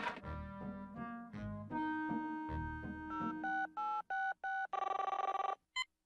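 A cartoon telephone rings in a Woody Woodpecker short: sliding orchestral notes give way to a rapid run of loud, bright ringing bursts, close and clear with no talking, ending on one final short ring.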